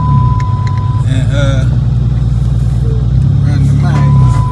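Dodge Magnum with dual Flowmaster 40 series exhaust, a loud, steady low engine rumble with slight revving throughout while driving, with a few faint voices in the background.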